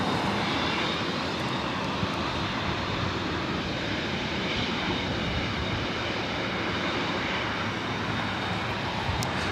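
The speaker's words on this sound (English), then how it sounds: "Southwest Airlines flight 488 coming up from St. Louis" Southwest Airlines Boeing 737-700 arriving at LAX from St. Louis, a loud, close, sustained jet engine roar that stays dense and steady throughout with no talk.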